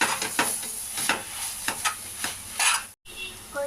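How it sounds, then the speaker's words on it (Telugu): Amaranth leaves fry in a pan with tamarind and turmeric, giving a steady close sizzle broken by repeated scraping stir strokes and a brief pause near the end. "ఇలా కొద్దిసేపు వేగనియాలి. కొంచెం వేగిన తర్వాత చింతపండు వేసుకుంటున్నాం."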